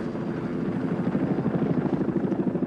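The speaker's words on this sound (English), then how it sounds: "here goes Nate, the helicopter pilot, into a kind of a thunderhead there" Helicopter from the film The Thing flying into a thunderhead, its rotor thumping in a steady rapid chop with a loud engine drone throughout, fairly close and continuous with no talk.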